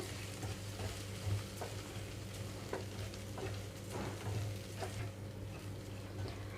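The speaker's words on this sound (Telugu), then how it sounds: "ఇలా తాలింపులో వేసి కొద్దిగా వేయించుకున్నా పర్వాలేదు" Steady sizzling of vermicelli frying in tempering in a pan over low flame, with frequent light scraping taps of a spoon stirring, close and fairly quiet.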